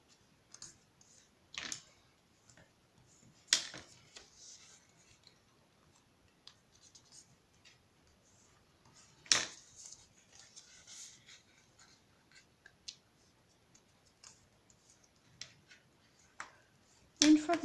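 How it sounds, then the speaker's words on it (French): Paper folds being creased with a bone folder for an origami card, sparse sharp scrapes and clicks close by against near silence. "en marquant à chaque fois les plis avec le plioir"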